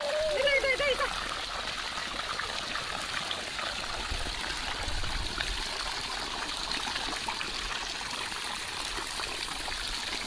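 Water runs and trickles steadily in a village garden setting where a child plays and splashes, with a brief high call near the start and the flow continuing evenly throughout.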